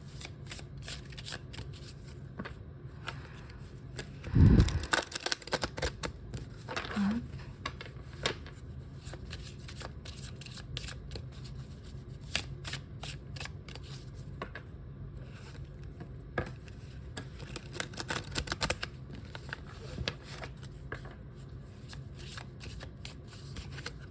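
Tarot cards are shuffled for a reading in a dense, continuous run of soft riffling and flicking that starts with a louder burst and carries on close to the listener.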